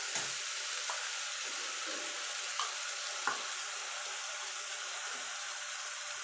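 Ginger, garlic and green chilli paste frying in a pan for chana masala, a soft steady sizzle with a few faint clicks of stirring, quiet and alone.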